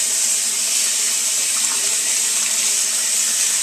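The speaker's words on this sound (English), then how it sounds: "Rinse that off." Hot water running from a tap over a juicer chute during cleaning, a loud, steady hiss of rushing water that holds even throughout, with no talking.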